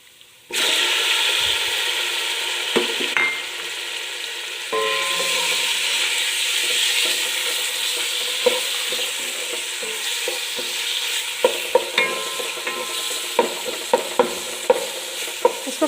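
Pieces of chicken fry in hot oil and are stirred for a pasta dish, a steady loud sizzle running throughout with frequent close scrapes and clinks of the spoon against the pan.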